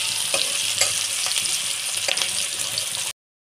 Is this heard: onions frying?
yes